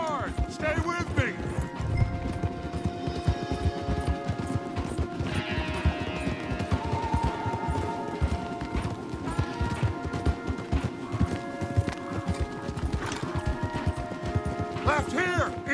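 Horses galloping in the video game Red Dead Redemption, dense rapid hoofbeats drumming continuously under voices talking, with occasional whinnies and rattling tack.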